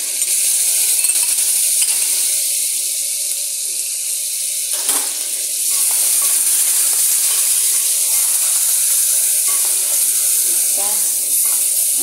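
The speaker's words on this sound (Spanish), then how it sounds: "Vamos a echarle los champiñones" Mushrooms are tipped into onion frying in a pan for a mushroom pasta sauce, and a steady, close sizzle hisses on without a break, briefly swelling as the pieces land.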